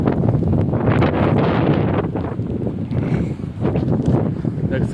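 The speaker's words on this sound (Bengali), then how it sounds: "প্রচণ্ড পরিমাণে বাতাস, প্রচণ্ড পরিমাণে বাতাস" Strong gusting wind during rain buffets the microphone with loud, rough roaring that rises and falls in waves, rain faintly underneath.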